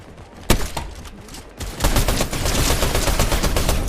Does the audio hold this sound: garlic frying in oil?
no